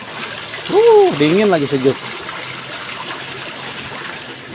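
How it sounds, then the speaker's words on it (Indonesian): Water flowing from a simple village spout used for bathing and ritual washing, a steady trickling splash running throughout while a person speaks briefly over it. "Ini sejenis pancuran. Tuh air dicoba baraya ini."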